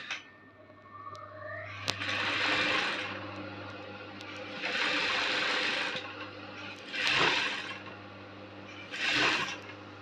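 A sewing machine stitches crinoline onto a fabric ruffle in four short bursts of whirring mechanical clatter separated by brief pauses, close up and fairly quiet, with no talk.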